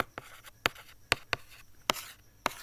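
Chalk or marker strokes on a board land in sharp, separate taps and short scrapes, about seven of them with gaps between, close and fairly quiet.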